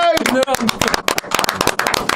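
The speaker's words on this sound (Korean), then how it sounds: "박수 한번 합시다." Quick, uneven hand claps from a small group, sharp and close, mixed with people talking and calling out loudly over them.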